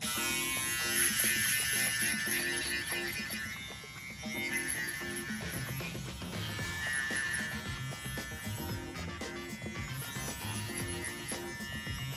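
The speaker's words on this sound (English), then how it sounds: "I'm going to use my shavers, but again, I'm not going higher than the trimmers." Electric shaver buzzing steadily through a kinky-hair V-shape fade, close and continuous with slight shifts in pitch as it moves across the head, alongside faint background music.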